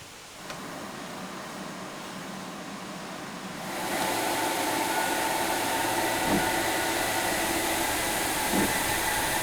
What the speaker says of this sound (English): You can hear the pressure getting pushed through.